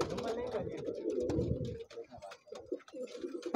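Saharanpuri pigeons cooing nearby in soft repeated throaty coos, with other birds and some background chatter mixed in.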